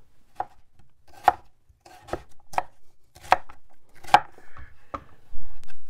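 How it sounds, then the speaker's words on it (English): A knife chops through raw rutabaga on a board, about ten sharp, close, distinct thuds spaced at an uneven rhythm, with quiet moments between and no talking. "I have to chop and peel these."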